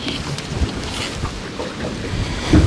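Strong wind gusts roar steadily outdoors on a fishing outing, a loud close buffeting rumble with brief thumps near the end.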